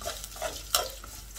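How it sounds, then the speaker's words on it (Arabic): Vermicelli fries in a pot on the stove for rice with vermicelli, giving a soft steady sizzle with scraping stirs and a sharp utensil clink against the pot, close and free of talk. "الشعريه اتحمرت اهي"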